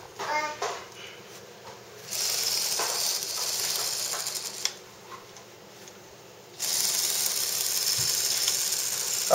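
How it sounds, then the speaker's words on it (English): A small electric motor from a 6-in-1 solar toy kit runs indoors under a light bulb. It gives a thin, high whirring in two separate bursts, with quiet gaps and faint mechanical clicks between them. "when the sun is shining, the little motor runs really fast"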